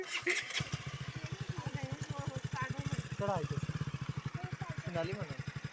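A motorcycle engine runs with a steady, throbbing rumble, close by, while people talk over it throughout.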